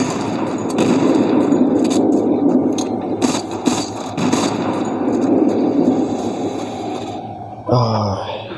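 A bomb detonates in the zombie-running mobile game Into the Dead 2, with crackling blasts and scraping clangs under a rumbling game soundtrack, then a sharp burst near the end.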